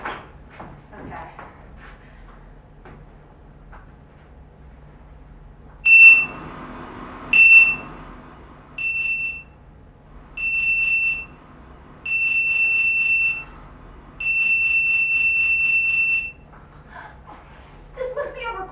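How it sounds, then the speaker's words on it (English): Recorded electronic beeping signal: a series of high, clear tones of growing length, first two short beeps, then a short beep, then longer bursts, over quiet room hum with faint sounds at the start and end. "And those beeps were occurring in a Fibonacci series."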